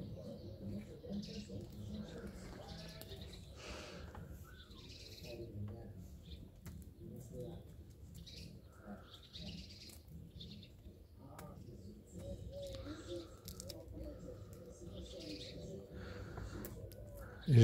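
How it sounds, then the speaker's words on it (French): Pigeons coo softly and sparrows chirp on a city balcony where bread has been scattered, faint scattered calls over a low murmur of background noise and occasional voices. "Jette du pain sur son balcon pour attirer les moineaux, les pigeons."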